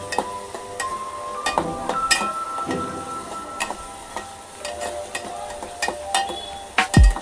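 Chicken frying in a pan for a dry chicken dish, a soft sizzle broken by sharp scraping and clinking of a spoon against the pan, near and moderately loud.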